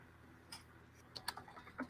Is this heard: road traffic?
no